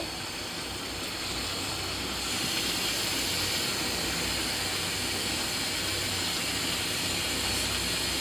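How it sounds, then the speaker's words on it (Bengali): Garlic frying in hot oil for tempering cooked greens: a steady, dense sizzle that rises slightly after a couple of seconds and holds evenly throughout, with no talking. "এখন আমরা তেলের মধ্যে রসুন দিয়ে ওই শাকে ভাগারটা দিব"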